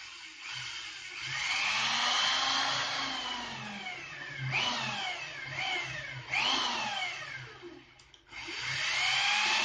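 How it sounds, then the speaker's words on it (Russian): A power drill running in hammer mode, drilling holes during a DIY build, loud and close with a steady whine broken by rising and falling pitch sweeps as it starts and stops several times. "Опять переключил на отбойный молоток."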